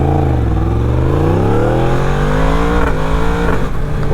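A 2020 Yamaha MT-10 with a crossplane engine revs hard and loud, its pitch climbing steadily across the span before a brief dip and another rise, heard alone and close.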